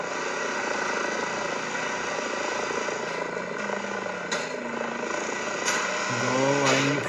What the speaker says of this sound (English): Go, I need helicopter.